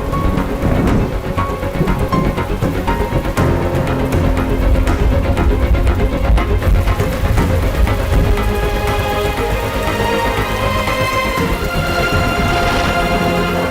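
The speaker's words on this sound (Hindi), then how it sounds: "बाहर बारिश भी हो रही है।" Heavy rain pours continuously and loudly, with deep rumbles of thunder rolling underneath throughout.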